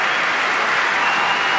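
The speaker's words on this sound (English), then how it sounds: "And a huge round of applause," Stadium crowd at the Stockholm Open tennis final between Grigor Dimitrov and David Ferrer, bursting into a dense, loud, unbroken wash of applause.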